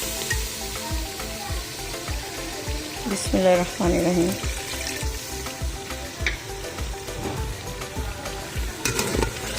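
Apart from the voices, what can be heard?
tomatoes and masala frying in a pot for beef trotters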